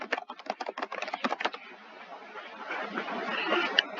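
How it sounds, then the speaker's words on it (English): Fingers tap a computer keyboard in a fast burst of crisp clicks lasting about a second and a half, followed by faint hiss and a couple of soft taps. "type in whatever information that you need"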